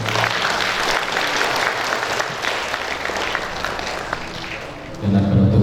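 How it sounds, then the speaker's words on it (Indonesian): An audience applauds at a tahfizh school graduation ceremony, a steady close wash of clapping that carries on unbroken, then fades as a low hum of voices and sound system rises at the end. "Mohon beri tepuk tangan yang meriah."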